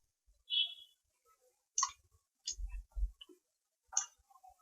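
A computer mouse clicks several times at a desk during Revit software work, sharp isolated ticks separated by silence, close and clear.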